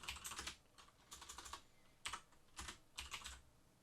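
Fingers type on a computer keyboard in quick bursts of crisp, close key clicks separated by short pauses, with no talking over them.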